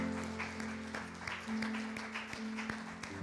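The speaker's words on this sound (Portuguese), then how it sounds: "Aplauda o Senhor Jesus com alegria, querido." A church congregation claps together in worship, a steady, fairly loud ripple of applause mixed with sustained organ or keyboard tones underneath.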